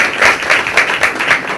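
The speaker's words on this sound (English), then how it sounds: "and let's clap." A room of attendees at a formal government event claps in a brief burst, the hands falling into a loose, pulsing rhythm of several quick surges, fairly loud and close.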